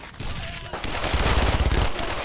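Rapid automatic gunfire in Brothers in Arms, a loud dense fusillade of close overlapping shots building through the middle and tapering at the end.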